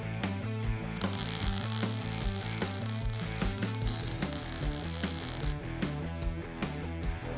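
Steady, loud rhythmic metallic clanking and ratcheting from an improvised arch maker bending steel tubing in a custom car garage, continuous and close.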